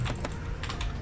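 Rapid mouse clicks rattle off in quick bursts while chopping trees in the Roblox game Factory Simulator, close and steady with no talk.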